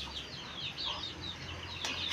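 A hen clucks softly in a farmyard, a series of short chirpy calls over a low steady background hum, no voices.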